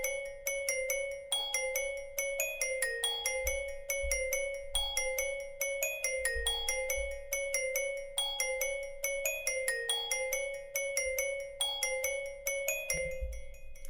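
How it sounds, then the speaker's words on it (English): Glocken Celeste bell preset from Omnisphere playing a repeating plucky melody in a pluggnb-style beat, bright chiming notes in a steady pattern with a soft low thump underneath, clear and upfront with no talking. "It's Glocken Celeste, and I don't think I did anything to edit the preset in Omnisphere"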